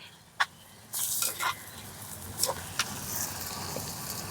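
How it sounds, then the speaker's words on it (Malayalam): Murinna meat frying in oil while being stirred, a low sizzling bed broken by a few sharp scraping clatters of the spoon against the pan, close and moderately loud. "മുരികയിറച്ചി കൂടെ എണ്ണയിൽ കിടന്നൊന്ന് മുരിങ്ങി വരുന്ന"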